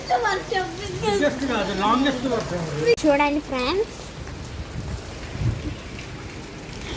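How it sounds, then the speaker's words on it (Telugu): Heavy rain pours down in a steady, dense hiss; someone talks over it for the first few seconds, then the downpour continues alone. "చూడండి ఎంత రెయిన్ పడుతుందో. రెయిన్ అయితే చాలా పెద్దగా పడుతుంది."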